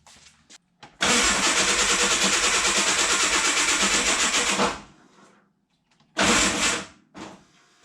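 Ford Bronco II engine cranks and catches, runs roughly for several seconds close by, then cuts out before a second short start attempt that quickly dies away.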